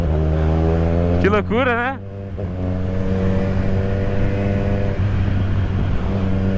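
Kawasaki Z1000 motorcycle engine accelerating on the road, a steady loud drone rising in pitch beneath people talking nearby.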